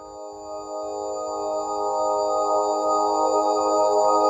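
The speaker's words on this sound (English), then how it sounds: "sort of glassy additive type of thing, but it doesn't sound like just a bunch of sine waves" A sustained, shimmering additive-style synthesizer tone from the Synthmaster 2 plugin with glassy, bell-like overtones, slowly swelling in level, with a faint pulsing low rumble underneath.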